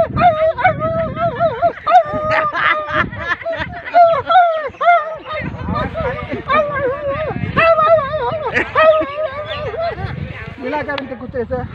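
Puppies fighting, one small pup whimpering and yelping after being struck, with high whines and yips repeating throughout, close and fairly loud, mixed with people talking over them.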